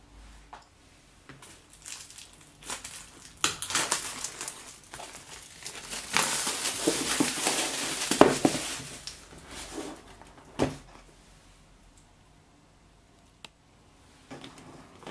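ASUS Transformer Pad Infinity LTE tablet packaging being handled during unboxing, with close crinkling and rustling of wrap and box that swells to a busy stretch mid-clip, broken by sharp knocks and lid sounds, then quiets near the end.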